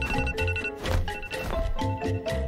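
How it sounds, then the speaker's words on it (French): A phone alarm rings with a repeating melodic ringtone, bright and steady, looping in short phrases at close range with no voices over it. "Allez, coupons cette alarme."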